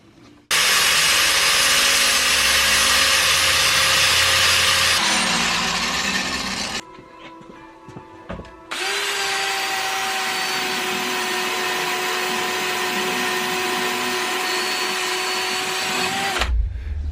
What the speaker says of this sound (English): take a very worn out flap disc, not a crazy one, just kind of brush off the casting